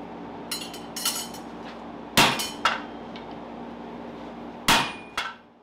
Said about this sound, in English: Using a hammer to make a hammer.